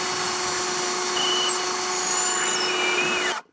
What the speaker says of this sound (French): je perce et je visse en bas avec des vis longues